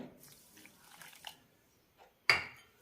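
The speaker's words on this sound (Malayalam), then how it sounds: "ഇതിലേക്കൊരു അരക്കപ്പ് വെള്ളം ഒഴിക്കാം" Soft clinks and rustles, then a short, sharp splash of half a cup of water being poured into wheat semolina that quickly trails off.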